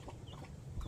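A rooster gives a brief, low, soft cluck nearby, a quick muffled burst of throaty sound that lasts under a second, with no talk.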